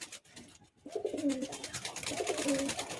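Old pigeons in a Bagnan loft give two distinct rolling coos about a second apart, near and clear over a soft steady background, with no voices.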